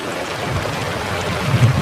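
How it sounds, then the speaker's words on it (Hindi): Rushing flood water in a Hindi jungle cartoon pours through a forest in a steady, loud, broadband wash. The surge grows slightly heavier toward the end, with no voices. "जैसे ही कालू ने बाहर आकर देखा, मीनू मौसी बाढ़ के पानी में डूब रही थी।"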